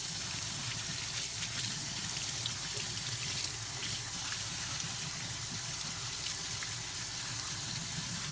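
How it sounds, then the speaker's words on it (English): Running water over rice and beans being rinsed for kitchari, a continuous close splashing and trickling wash with the swish of fingers stirring through the grains. "keep on rinsing your fingers, running your fingers through the rice and the beans"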